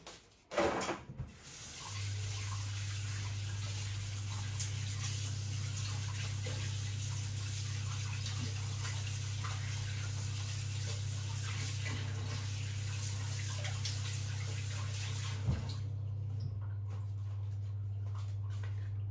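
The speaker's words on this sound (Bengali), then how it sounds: "আমি হাতটা ধুয়ে নেই।" Tap water runs steadily into a sink while hands are washed, a continuous hiss that holds for most of the stretch after a brief knock at the start, with a constant low electrical hum beneath it.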